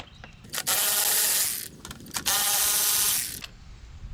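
Torx T25 bolts come out of a 2023 BMW S1000RR or M1000RR sportbike during a teardown, heard as close ratcheting and whirring tool bursts, two long runs separated by brief pauses and small clicks.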